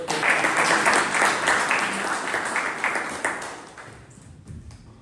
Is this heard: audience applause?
yes